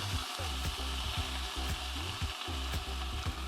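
Chicken frying in a pan gives a dense, steady sizzle, close and constant, with a repeating rhythmic low rumble running underneath.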